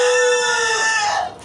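A rooster on a small poultry farm crows once, loud and close, with a long drawn-out call that trails off at the end.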